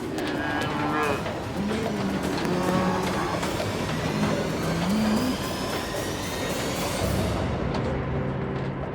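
Cattle moo repeatedly inside a livestock truck bound for a ship at the wharf, loud and close, with several overlapping calls over steady engine rumble and road noise.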